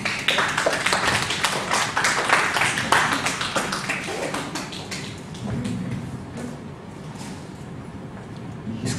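An audience at a book presentation in Burgas claps, a dense burst of many hands that is loudest at the start and gradually thins and softens.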